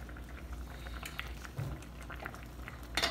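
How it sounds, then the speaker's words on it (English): A pot of Haitian-style bread soup bubbling at a steady boil, soft continuous simmering with scattered small pops and bubble bursts, quiet and close, no talking. "This has been boiling for about a good 10 minutes"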